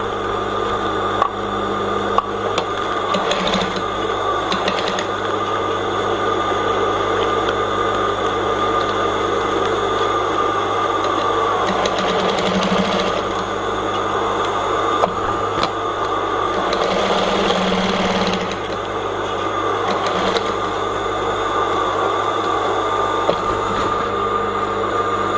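A sewing machine stitches a pleated base in a steady, continuous mechanical whir, with a few brief changes in pace, close and alone.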